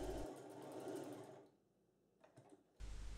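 A sewing machine stitches the end of a dress collar, a loud close whirring run that stops briefly and starts again at the end.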